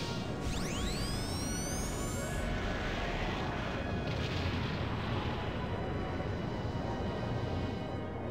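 A Moonstone Cannon fires in the airship battle game Skies of Arcadia Legends: a deep, sustained artillery boom with rising whooshing streaks near the start, rumbling on loudly and continuously without speech.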